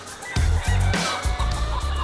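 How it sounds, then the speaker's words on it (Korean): White-feathered Baekbong silky chickens on a forest farm in Chuncheon, Gangwon, call loudly and repeatedly, several birds overlapping in a noisy, close chorus of squawks and crowing bursts. "닭 울음소리가 요란한데요."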